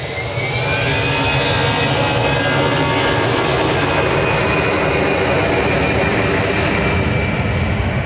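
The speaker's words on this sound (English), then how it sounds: "EasyJet departing now on 2-3 left to the Isle of Man." An easyJet airliner departs Manchester Airport on runway 23 left, its jet engines producing a loud, steady broadband roar that stays constant throughout, with no talk over it.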